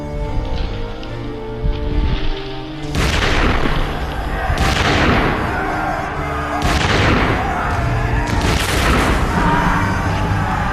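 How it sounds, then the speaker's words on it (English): Musket volley fired by massed troops at close range in a Napoleonic battle, heard as a series of loud booming blasts, each with a long rumbling decay, over continuous battle noise. "They were just 40 paces away when the Duke gave the order to fire."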